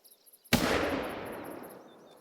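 A single sharp gunshot at a shooting range in Hunter Call of the Wild, a sudden loud crack after near silence with a long fading echo trailing away.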